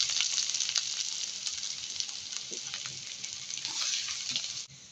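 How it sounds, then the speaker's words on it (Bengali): Chopped onion and garlic fry in a wok of hot oil alongside dried chillies, a continuous bright sizzle with faint crackles that stays even throughout and then cuts off abruptly at the end. "আমি শাকের জন্য পেঁয়াজ রসুন কুচি রেখেছিলাম, ওটা দিয়ে দিলে কড়াই"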